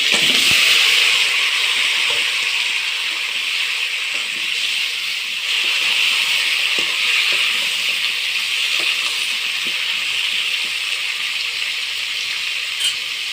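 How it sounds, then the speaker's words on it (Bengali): Ash gourd and vegetables fry in a pan for a Bengali curry, giving a steady, even sizzle and hiss that continues throughout with no talking. "এবার আমি তরকারিগুলো ভেজে নেব।"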